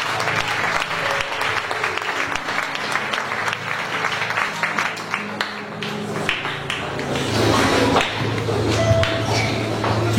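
A church congregation at a French charismatic conference claps and acclaims, sustained applause with rhythmic clapping and crowd voices filling the room, continuous and fairly loud throughout.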